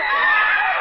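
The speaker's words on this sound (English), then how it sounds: "Then why do I still hear the screaming?" A drawn-out, wavering scream used as a sound effect in an old-time radio horror drama, loud and continuous without a break.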